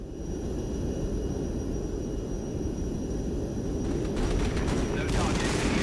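Mi-24D attack helicopter firing on ground units in the video game Regiments, a dense continuous roar of rapid gunfire and rotor drone, loud and steady throughout, swelling slightly toward the end.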